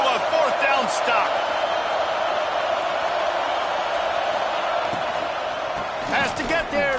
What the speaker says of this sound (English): crowd busting the decibel meter and trying to will a fourth down stop